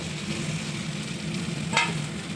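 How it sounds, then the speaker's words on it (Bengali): Fried prawns sizzle in browned spice masala in a pan, producing a soft, steady close sizzle with light stirring and one brief sharper spatter, fairly quiet and without voices. "আস্তে আস্তে তেলটা ছেড়ে দেবে তো ব্রাউন হয়ে তেলটা ছেড়ে দেবে এর মধ্যে চিংড়ি মাছ ভাজাটা দিয়ে দেব"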